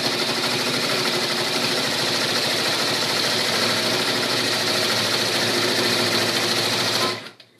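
An embroidery machine stitches out a troll girl applique with a loud, steady, rapid mechanical chatter that runs unbroken before cutting off abruptly near the end.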